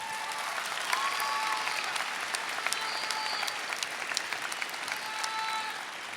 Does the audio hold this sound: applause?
yes